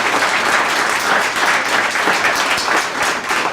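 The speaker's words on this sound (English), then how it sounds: "there's a round of applause for really tremendous" A roomful of people at an exhibit unveiling at a peer-run recovery center applauds in a sustained, loud burst of clapping, steady and dense for several seconds with no voices over it.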